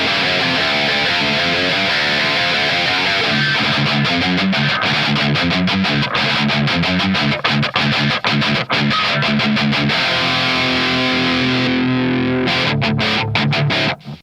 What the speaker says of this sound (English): You engage the pedal and it just brings all those tones and creamy goodness right out.